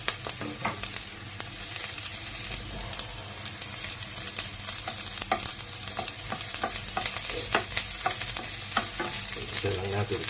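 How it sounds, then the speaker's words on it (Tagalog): Garlic and onion sautéing in a pan for laing with anchovies, a continuous bright sizzle broken by frequent scraping and clacking stirring strokes, close and steady with no speech. "Sunod natin itong bawang at sibuyas."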